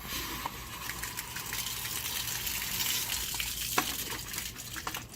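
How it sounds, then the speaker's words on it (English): High-pressure hose water flushing out the rusty radiator of a 1998 Lincoln Town Car, a steady rushing gush with scattered splashes and spatters, fairly close and continuous without talk. "take a hose and put high pressure water, shake it out, flush"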